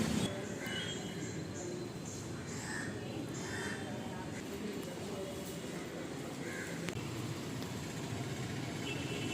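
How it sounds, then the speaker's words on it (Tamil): A MEMU passenger train bound from Palakkad Town to Erode stands at Palakkad Town station, giving a steady broadband rumble with faint squeals and crow calls, and muffled voices beneath it. "இதோ இந்த ட்ரெயினில் தாங்க நம்ம இன்றைக்கி ட்ராவல் பண்ண போகிறோம்."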